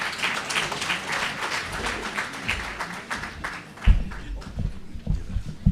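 Audience applause at a World Teachers Day gathering, a steady patter of many hands that thins out toward the end, with some low thumps and room noise underneath.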